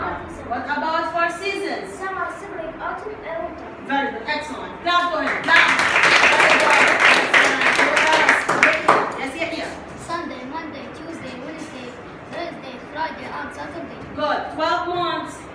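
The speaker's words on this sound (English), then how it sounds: "Clap for him. Clap." Fifth-grade children clap together in an English language lab classroom, a brief lively burst of applause in the middle, framed by a teacher and pupils talking before and after.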